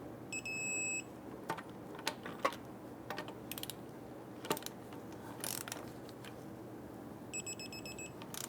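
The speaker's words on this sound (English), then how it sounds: "Go ahead and torque down your lug nuts to 83 foot-pounds." Ratcheting clicks of a torque wrench tightening lug nuts on a 2000-2006 Toyota Tundra, sounding as short clicking bursts in a crisscross sequence over a steady low hum, with sharper metallic ticks near the start and end.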